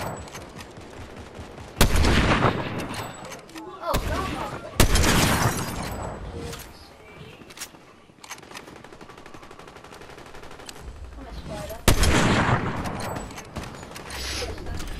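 Enemy team gunfire in a video game: several loud, sharp bursts of automatic fire, near and punchy, around two, five and twelve seconds, with quieter crackling shots between.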